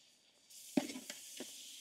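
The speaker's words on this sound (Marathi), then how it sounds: "2 मिनिटं आपण अद्रक लसूण पेस्ट व्यवस्थित परतून घेऊ" Ginger garlic paste sautés with onions and tomatoes in a pan for a village-style goat balls biryani: a soft sizzle starts suddenly, with three or four sharp spatula clinks against the pan.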